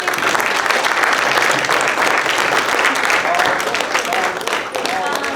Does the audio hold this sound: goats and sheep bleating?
no